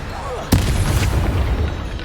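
A Confringo explosion spell goes off in the Hogwarts Legacy video game, a single sharp booming blast followed by a rumbling tail over steady game background sound.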